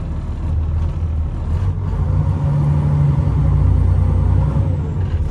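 Low, steady diesel rumble from a semi tractor idling as the clutch engages in first gear, close and loud, the throb swelling slightly toward the end with no talking.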